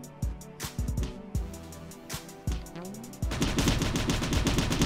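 Enemy gunfire in the video game Cally's Trials: sharp shots crack in irregular bursts, then give way to rapid sustained machine-gun fire, loud and close.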